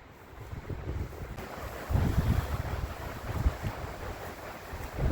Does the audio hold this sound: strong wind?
yes